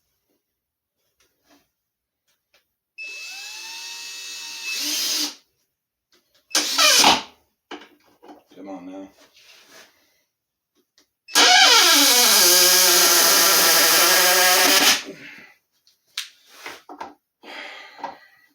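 A drill drives 3-inch screws into a garage shelf in two long whirring bursts with a short spurt between, close and loud, with small knocks in the gaps and a brief spoken remark.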